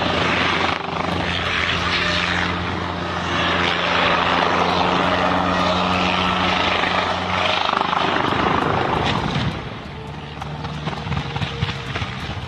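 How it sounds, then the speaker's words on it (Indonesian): A helicopter circling for an emergency landing roars loudly and continuously, its rotor thumping throughout, then the engine noise drops and softens near the end. "Heli ini berputar-putar untuk melakukan pendaratan darurat"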